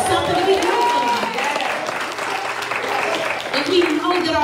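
A church congregation clapping their hands for Jesus during a sermon, steady crowd applause heard under a preacher's voice that keeps talking throughout.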